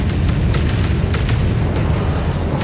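A frigate's fuel cell blows in the space strategy game Homeworld 3, giving a dense, sustained rumbling explosion that fills the whole stretch at a steady loud level.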